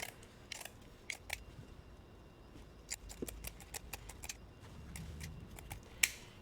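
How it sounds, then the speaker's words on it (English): Scissors snip through burlap fabric for a painted placemat craft, with a scattered series of crisp, quiet cuts and clicks at close range and no talking. "And just cut it a little bit bigger than your surface."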